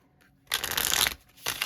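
Tarot cards being shuffled up close in two quick bursts, a long riffling rush followed by a shorter one, crisp and papery with no speech.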